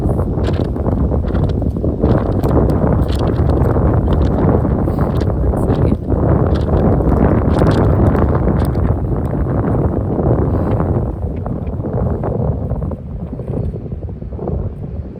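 A strong gust of wind blasts across the microphone outdoors in a heavy, continuous roar that stays loud for most of the time, then eases slightly toward the end.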